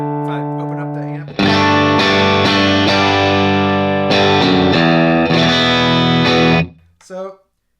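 Electric guitar played through an amp turned up until it just barely breaks up, sounding loud and close as several sustained chords ring out and decay, then a few quieter trailing notes at the end.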